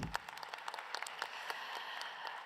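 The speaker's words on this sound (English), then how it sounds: "I would love to ask for a round of applause for this organization" An audience at a women's trailblazers event breaks into a round of applause, a dense, steady wash of many hands clapping at moderate volume with no voices over it.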